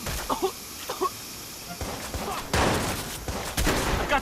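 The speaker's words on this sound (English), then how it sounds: "Shots fired!" Gunfire in the Watch Dogs video game, with a few scattered shots followed by louder, sustained bursts of shooting near the end that sound close and sharp.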